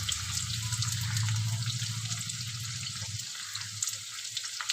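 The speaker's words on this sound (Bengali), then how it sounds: "আলুটা ভালো করে আমি লাল লাল করে ভেজে নেব।" Potatoes frying in oil until reddish-brown, a steady hissing sizzle with a low rumbling bubble that eases after a few seconds, close and alone.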